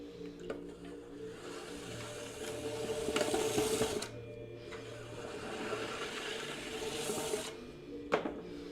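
An aging pottery wheel runs steadily with a mechanical whir and hum, swelling and easing in two broad surges with a brief knock near the end, no voices over it.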